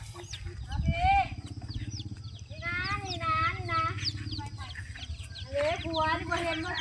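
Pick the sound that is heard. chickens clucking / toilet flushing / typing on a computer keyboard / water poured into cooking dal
chickens clucking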